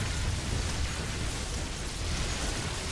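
Psionic Storm from a High Templar landing on clumped units in a StarCraft 2 PvZ match, a dense, steady crackling rush like heavy rain spread evenly through the whole clip, loud and without talk.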